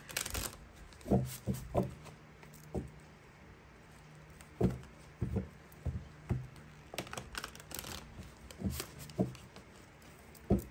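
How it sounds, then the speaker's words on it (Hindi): Tarot cards are drawn from a deck one after another, giving soft irregular taps, flicks and shuffling rustles close by in a quiet room, with no talking. "मैं तीन कार्ड्स निकाल रही हूँ"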